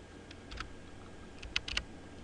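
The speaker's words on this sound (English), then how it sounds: "type the measurement using the computer keyboard" Computer keyboard being typed on for a nerve conduction study measurement entry, a few quiet scattered keystroke clicks in two short bursts over a faint room hum.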